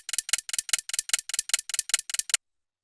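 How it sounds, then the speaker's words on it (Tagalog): A clock ticks in a quick, even run of crisp clicks for about two seconds, close and fairly quiet, alone before stopping abruptly. "orasan,"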